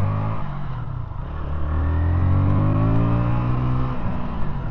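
A 2025 KTM Duke 160 motorcycle with a 160cc single engine accelerating as the clutch is released, its loud, close engine note climbing steadily in pitch, with no talking.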